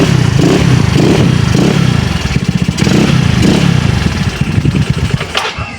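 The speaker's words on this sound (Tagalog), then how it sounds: "Stock CDI. Pakinggan nyo ang andar." A Yamaha Mio Soulty scooter engine on its stock CDI runs close and loud, a steady rattling putter with slight rises and dips in revs and a clattery mechanical edge.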